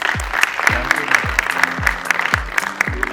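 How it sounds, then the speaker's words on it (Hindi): Audience applause welcoming the speakers of a session at a talk or lecture event, a steady wash of clapping with a few sharper claps and low thumps standing out, continuing for a few seconds without speech. "आइए अब हम इस सत्र के सभी वक्ताओं का तालियों की गड़गड़ाहट से स्वागत करें"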